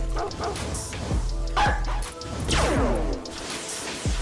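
A summoned dog in a Roblox game barks in several sharp, close yips and bow-wows with short whimpering tones, mixed with game effects and clattering hits.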